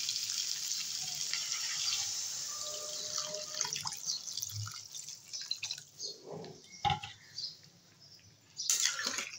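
Broth poured into a pan of vegetables frying in spiced oil, with a bright wet sizzle that thins out, then scattered drips and liquid splashes, with a brief louder splash near the end.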